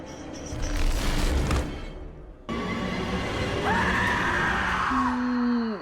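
A woman screams in a horror TV scene about the bent-neck lady, a rising wavering cry that breaks into falling wails over a dark, noisy backdrop.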